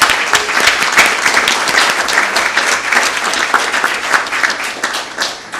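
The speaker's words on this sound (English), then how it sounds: "This, I think, deserves a huge and a very warm applause from everyone" A conference room audience at a South-South cooperation meeting gives loud, sustained applause. Many hands clap in a thick, crackling wash that thins slightly toward the end.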